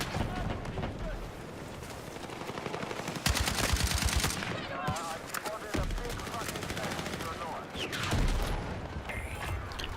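Rapid video game gunfire aimed at an enemy, bursts of machine-gun shots rattling loudly under a voice talking, with booming impacts and mechanical clatter between the volleys.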